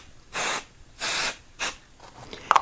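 Spray adhesive misted onto quilt layers for basting: three short hissing bursts from a can, the last one briefer, followed by quiet handling sounds.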